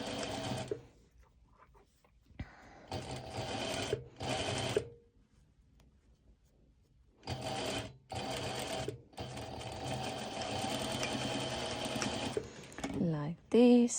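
A sewing machine stitches binding onto lycra pole dance bottoms in several close, loud bursts of rapid whirring, separated by short pauses and quiet handling noises.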